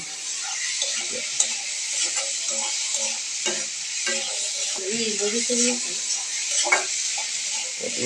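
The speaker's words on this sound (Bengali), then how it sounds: "সবজি দিয়ে ভালো করে নেড়ে নিচ্ছে, নাড়াচাড়া করে নিচ্ছে, সুন্দর করে ভেজে নিচ্ছে" Vegetables for noodles are stir-fried in a pan: a steady sizzle with irregular scrapes and taps of a spatula, and a faint voice briefly in the background.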